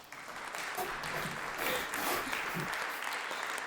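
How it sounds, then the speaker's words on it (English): A short burst of applause during a podcast recording, a moderately loud, dense clatter of clapping that builds quickly and holds steady, with a faint voice briefly underneath. "that deserves a round of applause"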